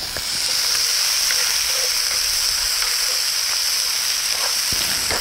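Green pepper sizzles steadily in a hot pan as it is stirred for a red beans and rice dish, a constant bright hiss with a few faint scraping clicks, close and unbroken, no voices.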